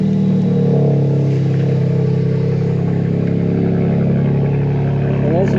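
A BMW M4 Competition with a Dyna X pipe and exhaust valve cold starts, then idles loud, high and steady, a deep continuous exhaust drone with a faint rise near the end.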